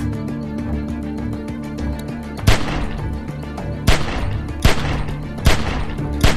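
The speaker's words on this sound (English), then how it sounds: "Remember, don't stop shooting." Gunfire in The Walking Dead: 400 Days video game, four sharp shots spaced a second or so apart over a steady loud rumbling game backdrop.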